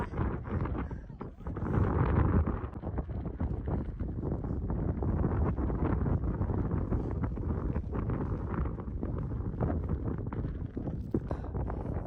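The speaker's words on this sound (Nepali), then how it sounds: "अहिले यहाँ एकदमै चर्को हावा पनि लागिरहेको छ" Strong, steady mountain wind at Suryakunda on the Gosaikunda trek in Nepal buffets the microphone with a constant low roar and gusty rumble throughout.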